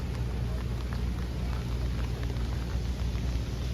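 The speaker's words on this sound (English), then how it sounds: "hopefully it's not raining like it is now" Steady rain falling in New York City near the World Trade Center memorial, a constant dense hiss with low rumbling underneath, continuous and fairly close, no voices.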